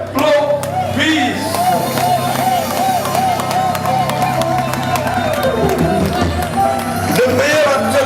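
A gala evening crowd claps and cheers as a performer is welcomed onto the stage, with steady applause and voices mixed over loud, continuous music throughout.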